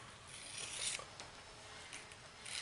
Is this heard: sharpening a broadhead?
yes